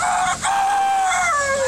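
A man in a rooster-crowing contest at a Relay for Life event imitates a rooster crow with his voice, giving one loud, close, drawn-out call with a brief break near the start and a falling tail.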